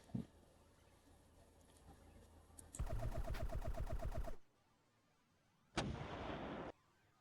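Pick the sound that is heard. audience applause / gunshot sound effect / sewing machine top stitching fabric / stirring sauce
gunshot sound effect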